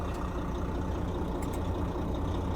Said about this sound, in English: And now the truck will drive itself, creeping forward.